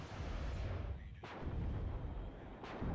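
Artillery fire in the WARNO wartime strategy game, a dense rumbling barrage with two sharp blasts standing out near the start and end, loud and continuous with no talk.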